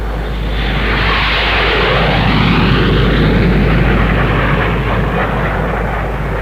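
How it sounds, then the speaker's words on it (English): Formation of nine English Electric Lightning supersonic jet fighters from 74 Squadron's aerobatics team flying at the Farnborough air show, a loud, steady roar of jet engines sustained throughout with a broad rushing swell. "9 Lightnings, Fighter Command's first supersonic all-weather single-seaters."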